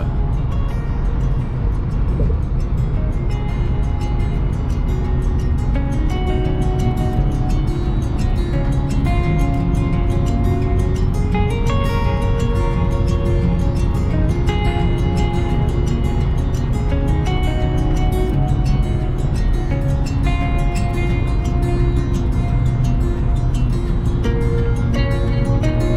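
Car cruising on Interstate 75 through Tampa, with a steady, loud wash of tyre and road noise and engine drone that continues unbroken throughout, without talk.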